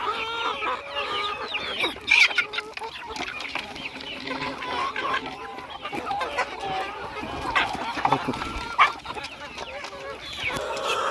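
A flock of chickens clucking busily close by, overlapping chatter and squawks throughout, with a few sharper calls standing out.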